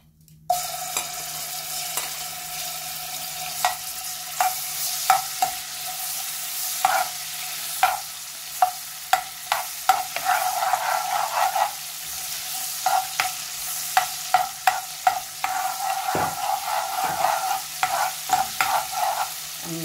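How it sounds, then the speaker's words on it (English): Garlic paste hitting hot oil in a pan already used for frying fish, for a cauliflower and rohu fish curry; a steady sizzle runs throughout with repeated sharp clicks and scrapes of stirring, close and fairly loud, no voices. "into this oil, we're gonna add in the garlic paste first"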